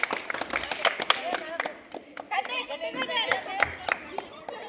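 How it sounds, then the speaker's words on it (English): A group of children clapping together after a game, with scattered sharp claps of varying rhythm mixed with excited chatter and voices close by. "Let's do a big clap."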